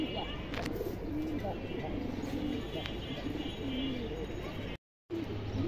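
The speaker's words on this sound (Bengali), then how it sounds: "1000 টাকা পাঙ্কি মাদি কবুতর" A female Pankhi pigeon coos softly in repeated low phrases, close but quiet, over a busy background hum, with a brief gap of silence near the end.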